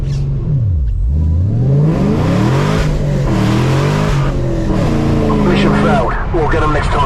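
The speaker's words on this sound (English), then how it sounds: "let's try a little 0 to 60 now" A Camaro ZL1 running on E85 launches hard from 0 to 60, its loud engine climbing through rising revs with short gear-change dips. A voice talks over the roar.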